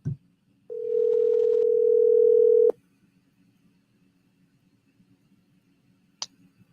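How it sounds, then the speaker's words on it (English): A telephone dial tone hums steadily for about two seconds, then cuts off abruptly with a click, and a faint line hiss follows until a brief beep near the end. "Let's see if we can call her up."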